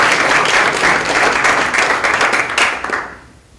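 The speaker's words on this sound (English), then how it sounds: "Give this man a clap, guys." At a scale-up business conference, a conference audience breaks into loud, dense applause that holds steady, then fades out over the final half-second.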